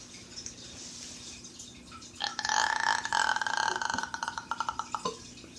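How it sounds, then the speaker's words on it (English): A person lets out a long, loud burp that rumbles for a few seconds and breaks into choppy bursts toward the end, with quieter room noise before it. "I actually did a good burp."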